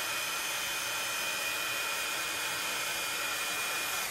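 A hair dryer or heat tool blows steadily over a freshly painted watercolor card, a loud, constant whooshing roar with a faint high whine that holds unchanged throughout and has no voices over it.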